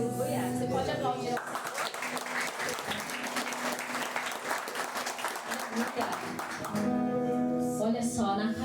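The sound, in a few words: congregation applauding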